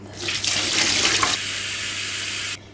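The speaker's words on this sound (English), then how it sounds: "the second time we do it, the water's going to run pretty clear" Tap water runs hard into a sink while potatoes are swirled and rinsed, a loud, splashy rush that changes to a steadier pour midway before it cuts off abruptly.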